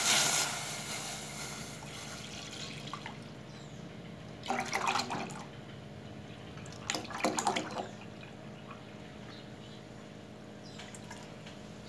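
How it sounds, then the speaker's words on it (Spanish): Half a gallon of milk poured into a pot on the stove, heard as two short liquid gushes over a quiet kitchen background, with no talking. "aquí le voy a agregar la leche"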